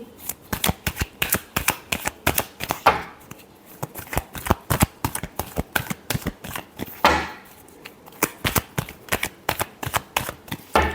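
Tarot cards shuffled by hand, a fast run of crisp riffling flutters repeating in bursts with short pauses, close and clear.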